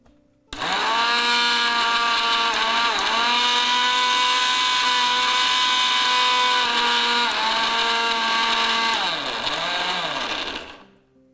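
A mixer grinder runs steadily at high speed, grinding roasted gram into a spice paste, its motor whine dipping and rising in pitch a few times as the load shifts before it stops abruptly near the end.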